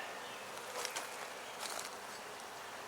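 Honeybees buzzing around a hive at a beekeeping yard, a faint, thin droning hum with a couple of brief swells as bees pass close, no speech.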